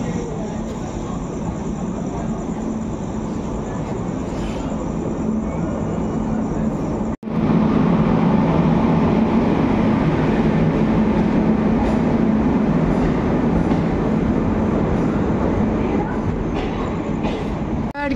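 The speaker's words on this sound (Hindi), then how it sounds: "ट्रेन आ गया है, ट्रेन आ गई," A train pulls into a station at night with a loud, steady rumble of wheels and rail noise, a brief sharp break partway through, then continued heavy rolling clatter close by.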